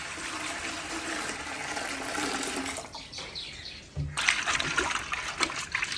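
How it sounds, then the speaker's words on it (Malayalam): Water poured into a bowl of parotta dough already mixed with milk, a steady splashing trickle that fades and then returns with brief splatters, close and fairly loud with no talking. "ഇനി കുറച്ച് വെള്ളം ചേർത്ത് കൊടുക്കുന്നുണ്ട്"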